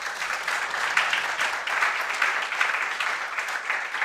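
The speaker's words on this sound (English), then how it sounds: "Can we give him a big round of applause?" Audience applause at a Grand Masters address, a dense, steady wash of many hands clapping that holds evenly for the whole stretch with no voices over it.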